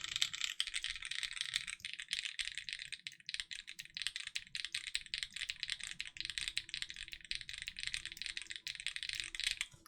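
Rapid, steady typing on a Geon F18x V2 custom mechanical keyboard with a lubricated spacebar, dense clacking keystrokes close up and continuous, with no voices.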